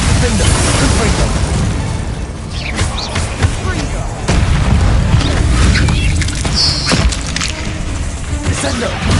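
A Confringo fire spell explodes in the video game Hogwarts Legacy, loud booming blasts and crashes bursting out among other spell effects, with a voice shouting spell names over the chaotic combat.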